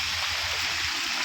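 Typhoon floodwater rushes through a city street in a steady loud roar of flowing water, continuous and close, with no voices.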